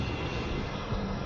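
An airplane carrying deportees lands in Guatemala, its engine roar a steady, broadband rumble that fills the short stretch without a break, loud and close with no voices over it.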